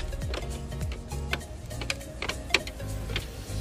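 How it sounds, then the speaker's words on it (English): A BMW E60 LCI 5 Series kidney grille is pulled out forcefully by hand, giving a series of close plastic clicks, ticks and small cracks with one sharper snap, over a low background hum. "I just proceeded on pulling out the kidney grille"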